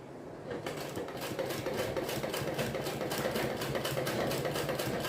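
A sewing machine starts up and runs continuously, stitching the folded-down hem along the side and bottom of a kaftan with a rapid, even mechanical rattle, close and steady with no talking.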